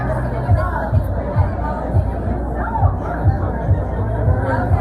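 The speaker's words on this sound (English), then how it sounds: "You can see there's a huge crowd here." A huge crowd chatters outdoors at the New York City red carpet premiere of Now You See Me 2, a loud, dense babble of many voices with regular low thumps pulsing underneath.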